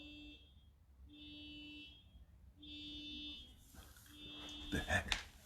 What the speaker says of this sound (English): Somebody's got an alarm going off